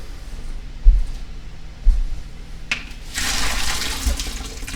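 Water runs into a kitchen sink over a colander, starting as a low splashing and swelling into a steady, loud hiss of pouring water, with a few dull thumps near the start.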